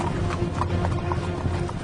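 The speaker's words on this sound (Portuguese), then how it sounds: "Então Naamã foi com seus cavalos e carros" Horses pulling chariots clip-clop in a steady, continuous trot of hoofbeats, close and fairly loud with no talking.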